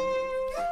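Cello sample pitched up in Ableton with formants switched fully off, giving a brief held note that bends upward near the end, harsh and thin, quiet and alone.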